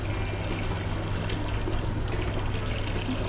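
Water pouring and trickling steadily while a turtle tank is partly drained for a water change, a continuous close wash with no talk.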